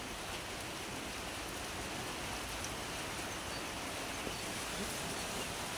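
Continuous, even hiss of storm rain falling steadily, with no breaks or other sounds standing out.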